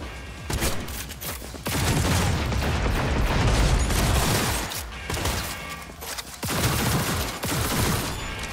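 Rapid pistol gunfire from the video game Cyberpunk 2077 rattles in dense, loud bursts over about eight seconds, with booming impacts and a brief lull midway before the shooting resumes.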